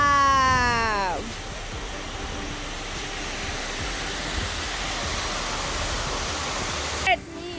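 Steady broadband rush of flowing water from a waterfall, fills the clip after a brief opening tone, continuous and fairly close.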